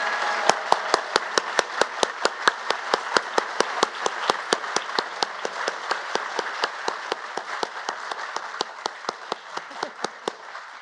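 Audience applause at a White House holiday decorations unveiling, honoring National Guard families: steady, moderately loud clapping from a crowd, with a few sharp, distinct claps standing out at a regular pace throughout.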